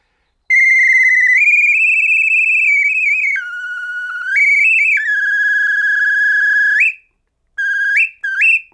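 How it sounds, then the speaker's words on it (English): A loud pea whistle with a wooden ball gives a piercing, shrill blast, steady for several seconds with slight warbling pitch shifts, then stops and gives two shorter sharp toots. "This is a very loud whistle."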